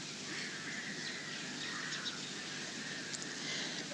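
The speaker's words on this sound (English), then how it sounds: "crows should stop their noise." Crows caw and chatter steadily in the trees at an outdoor gathering in Alibaug, India, forming a dense, continuous bird din at moderate distance with no voices over it.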